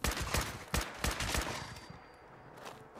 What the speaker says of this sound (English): Oh, there's the one with the minigun.